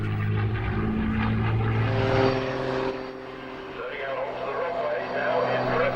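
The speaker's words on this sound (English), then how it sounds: "this immaculate 2-seat Spitfire T9" A two-seat Supermarine Spitfire T9 propeller plane flies past at an airshow, its engine a loud, sustained droning roar with shifting pitch that eases slightly toward the end, under commentary.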